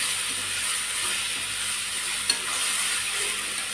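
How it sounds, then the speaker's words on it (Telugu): Chukkakura (sorrel leaves) fry in a pan, giving a constant even hiss and sizzle up close with one brief tap partway through and no voices. "ఇది వేసుకొని మొత్తం ఇది బాగా మెత్తగా మగ్గేదాకా ఫ్రై చేసుకోవాలి చిక్కకూర"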